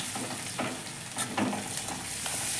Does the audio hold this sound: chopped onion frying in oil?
yes